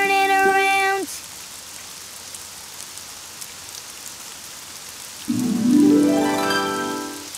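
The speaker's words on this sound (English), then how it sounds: "It's raining outside." Soft, continuous rain patters throughout, opening with a brief chiming tone and later joined by a rising musical sweep.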